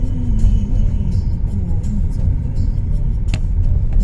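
Traffic rumbles steadily at Majestic bus stand in Bangalore, a loud, close, continuous drone of vehicle engines with a brief sharper clatter near the end and no one speaking.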